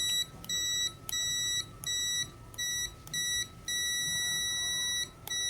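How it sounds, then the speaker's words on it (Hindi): A budget digital multimeter gives its continuity-test beep, a loud high-pitched electronic tone repeating in on-off bursts of varying length, with no talk over it. "बीप का साउंड सुनाई देगा, तो ये काफ़ी अच्छा साउंड सुनाई दे रहा है।"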